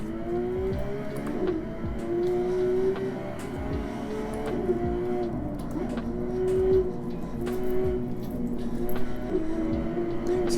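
A racing simulator video game on the Nordschleife puts out a car engine sound, a droning engine note that rises and falls steadily with some clicks and knocks over it.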